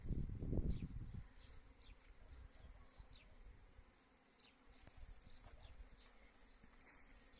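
Honey bees buzz around hives at a spring apiary, a soft steady insect drone with individual bees zipping past close by, preceded by a brief low rumble at the start.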